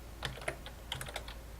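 Keys clack on a computer keyboard as data is entered, a short run of light, quick keystrokes in two small clusters, close-up over a low steady hum, with no speech.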